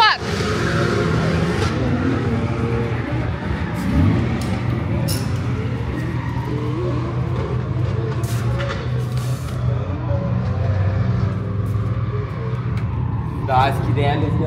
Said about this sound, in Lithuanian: Volvo šiandien nusprendė, kad išmetimą downpipe vamzdis neturi būti prijungti prie motorą.